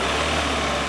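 A car engine runs at a steady idle, close up and loud, with an even, continuous rumble throughout.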